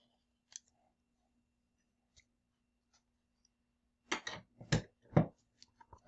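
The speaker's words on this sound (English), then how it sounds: "I'm going to cut all of these strings off." Scissors snip threads from the edges of a foundation paper-pieced quilt block, heard as a few faint isolated clicks followed by a quick cluster of sharp close cuts near the end.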